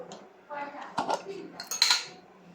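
A metal spoon clinks and scrapes in a small bowl while mixing sugar with honey and other skin scrub ingredients, a few close taps and scrapes over a short stretch.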